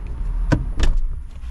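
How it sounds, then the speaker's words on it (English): A car door on a 2024 Ford Mustang GT, a couple of close clicks and thumps of the latch and door moving open, with a faint steady hum behind. "I'll open this door over here too."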